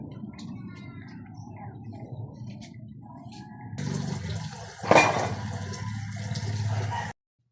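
Water running from a tap during washing. It starts as a faint trickle under background noise, then a louder steady gush with a splash midway, and ends abruptly.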